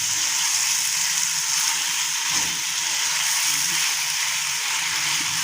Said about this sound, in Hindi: चिकन को हमने प्याज और अदरक लहसुन के साथ अच्छे से फ्राई करना है।